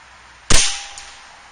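An Air Venturi Avenger .25 air rifle fires a single 40 grain pellet with a sharp, loud crack that trails off quickly, followed by a faint distant tick of the pellet striking downrange.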